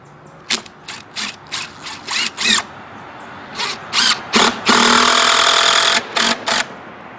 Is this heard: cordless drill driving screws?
yes